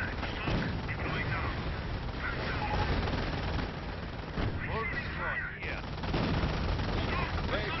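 Gunfire in a Company of Heroes battle aimed at a British Cromwell tank, a dense, steady stream of shots and battlefield rumble running throughout, loud and continuous with brief dips, mixed with voices and clatter.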